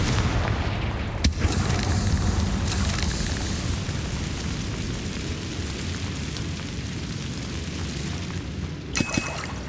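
Confringo fire spell blasts in the Hogwarts Legacy video game: a sharp blast near the start and another near the end, with a dense, rumbling battle din filling the space between.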